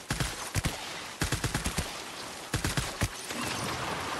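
Gunfire from the video game Death Stranding comes as sharp, loud bursts of rapid shots in several clusters with brief quiet gaps between them.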